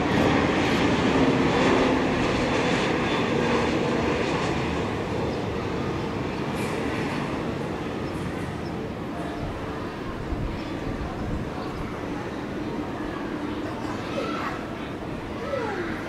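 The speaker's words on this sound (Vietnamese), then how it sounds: "chiếc máy bay đã hạ cánh xuống đường băng 25 phải" An AirAsia airliner landing on runway 25R at Tan Son Nhat airport: a broad, steady roar of jet engines heard from a distance that slowly fades as the aircraft rolls out.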